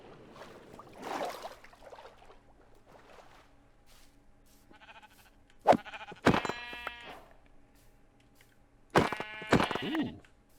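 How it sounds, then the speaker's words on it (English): Sheep in the Minecraft video game bleat in several short, loud, close calls, with quieter ambient game sounds between them and no talking. "I see some black sheep over here."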